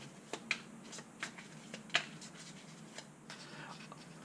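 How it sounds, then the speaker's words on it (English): Deck of Transformers deck-building game cards being shuffled by hand, quiet scattered riffles and card snaps with sharp ticks, close and faint. "you know what, we'll do a quick shuffle."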